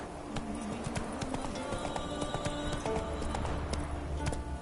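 Roach the horse gallops in The Witcher 3, with quick steady clip-clop hoofbeats throughout, close and clear, over game ambience.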